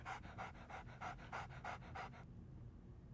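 A dog pants steadily in the Nancy Drew: Ghost Dogs of Moon Lake video game, about eight quick rhythmic breaths over a low ambient hum before falling quiet.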